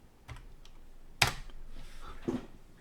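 Computer keyboard keys tapped while entering a number in CAD software, ending in a sharper Enter keystroke: a few soft clicks, then one louder close tap and a final lighter press, with no speech.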